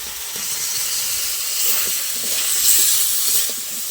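Fried taro and potatoes go into a pan of sizzling spice masala, giving a steady, close, bright frying hiss that swells slightly midway, with faint clatter underneath.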